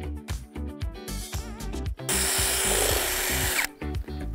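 A power drill whines steadily for over a second, boring screw pilot holes into wood for a pergola, framed by choppy bursts of clattering and knocking before and after.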